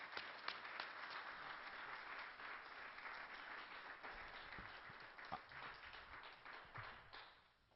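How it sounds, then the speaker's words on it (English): Sustained applause from a crowd at the Granada Forum, many hands clapping continuously and filling the room before fading slightly at the end. "let's give Dr. William Deagle a warm round of applause at the Granada Forum"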